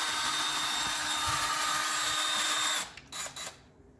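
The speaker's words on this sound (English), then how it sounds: "I decided I was going to move on to get the hand drill, just making it a little easier" A hand drill loosens a bolt on a Chrysler 300M engine, whirring steadily at close range for nearly three seconds, then stopping and giving a few short bursts before falling quiet.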